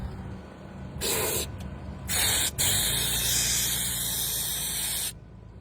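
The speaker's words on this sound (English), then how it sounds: "I got my air blower here. I'm gonna blow up through here." An air blower hisses in sharp, loud bursts as air is forced through a small vent hole in a John Deere FD22B mower deck spindle: two short blasts, then a longer steady rush that cuts off abruptly.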